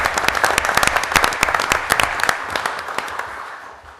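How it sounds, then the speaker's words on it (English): An audience at a public meeting breaks into a burst of applause, many hands clapping densely, then gradually thinning and fading toward the end. "they deserve a round of applause"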